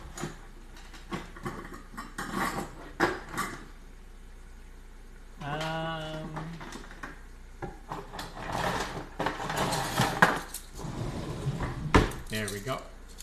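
Metal measuring spoons clink and rattle in a kitchen while cinnamon is measured for a pumpkin latte, producing a busy run of light, close jangles and taps with brief fuller clatters.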